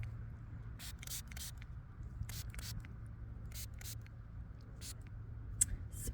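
A spray bottle fires a series of short, airy spritzes close by outdoors, with each burst brief and evenly spaced over a quiet, low background hum.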